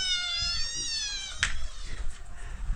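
Two hungry cats meow loudly around a bucket holding their food, a drawn-out, wavering high cry followed by a sharp shorter yowl, close to the microphone with faint background noise.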